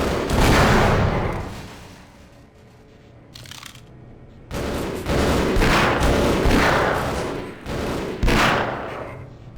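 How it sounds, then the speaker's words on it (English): Gunfire and explosions from the PC shooter Half-Life come in loud, dense bursts of rapid shots and booming blasts, with a short lull before the barrage resumes. "Many weapons sound amazing, explosions sound booming"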